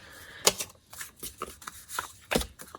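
Sheets of Designer Series craft paper are handled at a crafting table, giving soft rustles, light slides and a few sharper taps of paper being shuffled and set down, close and fairly quiet.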